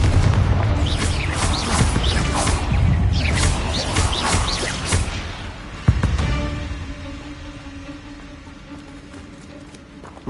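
A Confringo blasting spell in Hogwarts Legacy: loud booming game explosions and impacts fill the first half, then a sharp blast near six seconds decays into a quieter, ringing tail.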